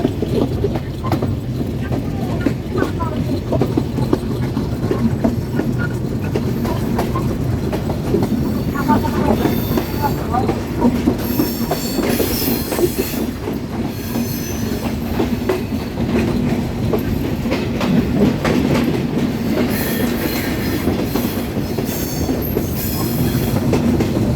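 Rupsha Express passenger train running on rails between Khulna and Dinajpur, a continuous low rumble with rhythmic clickety-clack of wheels and occasional metallic squeals, heard from inside a carriage with no talk.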